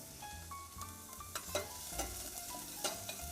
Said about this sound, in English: So you start with just sauteing a few onions and garlic